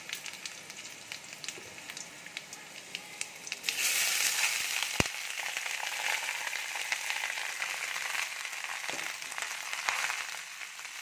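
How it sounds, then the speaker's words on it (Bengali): Cooked rice is dropped into hot oil, a quieter crackle that suddenly swells into a loud, sustained sizzle, with occasional sharp clicks and stirring sounds nearby and no speech. "এবারে ভাতগুলো তেলের উপরে দিয়ে দেবো।"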